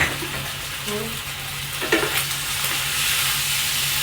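Sliced luffa and egg sizzle in a hot pan as they are stir-fried, with a constant hiss and a few scraping stirs and clinks partway through.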